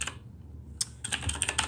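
Keys tapping on a computer keyboard, a couple of quick strokes, a short pause, then a rapid burst of close, quiet clicks.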